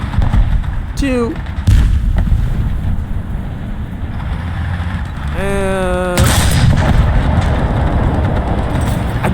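A tank cannon fires a high-explosive shell in a World War II tank game, a sharp heavy blast near the start with rumbling engine noise and a whistling projectile sound later, over constant vehicle drone.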